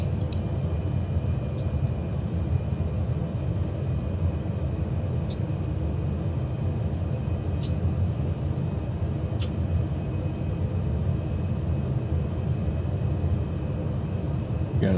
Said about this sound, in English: Just coming in real nice here in the Bora Bora in the Cessna 208